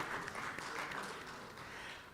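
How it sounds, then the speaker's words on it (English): Audience applause at the East African Court of Justice bar-bench forum for Professor Ruhangisa, a steady wash of clapping from many hands filling the hall, sustained and even for a couple of seconds. "Let's give Professor Ruhangisa a big round of applause"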